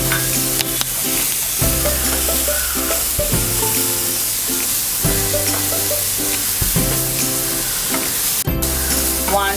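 Onions frying in a pan with cinnamon and black pepper for oats khichadi, a loud steady sizzle with repeated stirring scrapes and clinks over background music, no talk.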